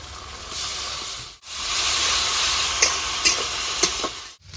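Ginger, garlic and green chilli paste hisses loudly on fried onions in a pan for a village-style fish curry. The bright, continuous sizzle breaks off briefly twice, with a few light scraping ticks.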